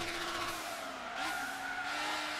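A tuned GT500 race car in Gran Turismo 6 roars up from behind with a rising, strained engine note and a hint of tire squeal, loud and steady over a couple of seconds.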